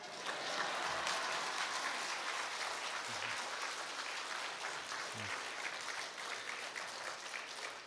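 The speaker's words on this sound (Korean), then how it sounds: "가장 큰 박수로 우리와 같은 박수로 할렐루야 하면서 우리 환영하겠습니다." A church congregation at a Korean mission report service breaks into loud, sustained applause that fills the room evenly from start to finish.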